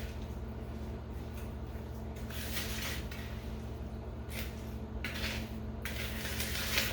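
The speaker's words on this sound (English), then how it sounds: "I mix it until it looks like there's no more white or no more straight sugar." Blueberries and sugar for a pie filling are stirred in a bowl, faint scraping and clinking of a utensil in quiet bursts against a low room hum.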